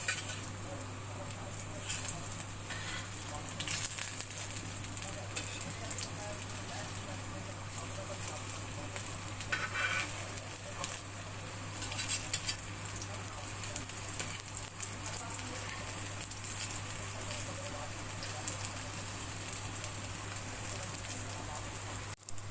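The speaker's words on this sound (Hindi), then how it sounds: "अब दोनों साइडें मैंने फ्राई कर ली हैं।" Chana dal kababs frying in a pan give a continuous, even crackling sizzle with no pauses, low and steady from start to end, plus a faint constant hum underneath.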